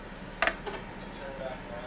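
A metal kitchen knife clinks twice in quick succession, faint and close, a brief bright metallic tap during makeup application with utensils, followed by quiet room tone.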